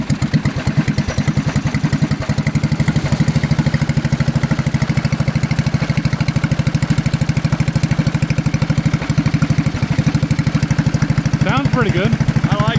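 A big block race go kart engine idles steadily and loudly up close, a continuous rough, throbbing run throughout, with a brief chirp of other noise near the end.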